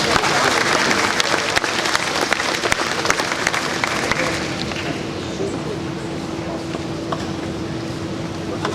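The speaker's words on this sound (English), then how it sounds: "Big round of applause." Guests at a harvest luncheon applaud, a dense round of clapping that stays strong for several seconds, then thins and softens toward the end over a low steady hum.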